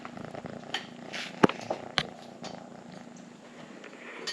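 A cat purring steadily up close in a workshop, a low continuous rumble with a few sharp clicks and knocks breaking in.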